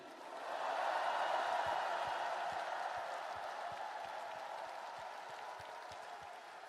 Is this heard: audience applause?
yes